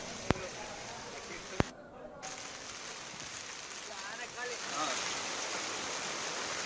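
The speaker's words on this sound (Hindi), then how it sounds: "ये देखिए खतरे के निशान से किस तरह ऊपर बहता हुआ पानी दिखाई दे रहा है" Floodwater pours over the gates of the Ranjit Sagar dam, a steady broadband roar of rushing water that fills the whole clip, with a couple of sharp clicks near the start.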